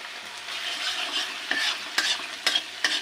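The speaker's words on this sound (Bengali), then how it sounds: "মশলাটা একটু কষুক আমি একদম মিডিয়াম করে রেখেছি গ্যাসের ফ্লেমটা" Spice masala frying in oil in a pan over a medium gas flame, a steady close sizzle broken by several sharp scraping strokes of a spoon stirring it, no voices.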